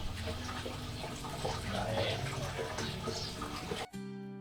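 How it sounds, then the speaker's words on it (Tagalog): Water draining out of a home fish aquarium, a loud, steady gushing and splashing flow that fills most of the clip and stops suddenly near the end, leaving only a faint hum. "i-drain ko lang po itong ating aquarium"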